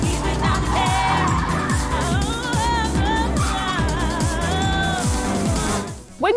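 Racing cars from the Ridge Racer Type 4 video game intro skid and squeal their tires over a driving music track, with engines roaring loud and continuous throughout before a brief cut at the end.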